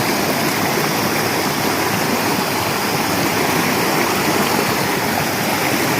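Strong rushing water at Lake Mist Waterfall roars in a loud, dense, unbroken wash that fills the whole stretch without a pause and with no voices over it.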